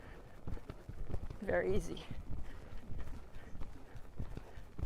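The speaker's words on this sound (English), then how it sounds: "if I wanted to canter off to the left here on this horse" Hooves of a horse beat in a steady three-beat canter rhythm on an arena surface, close and fairly loud, with a rider briefly talking over the hoofbeats.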